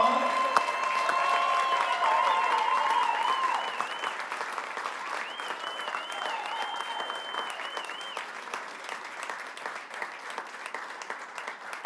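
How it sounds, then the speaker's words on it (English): Sustained audience applause fills the room at a Nashville SC Unified Team event, dense clapping with some whistles that stays loud, then eases slightly and keeps going. "can you please give Charlie Millheiser a huge round of applause?"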